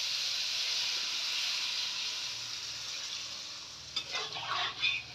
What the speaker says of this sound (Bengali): এবার এটার মধ্যে আমি জল দিয়ে দেব।